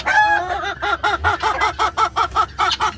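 Roosters and chickens in a farm coop with guinea fowl, crowing and clucking close by in a steady run of repeated loud calls.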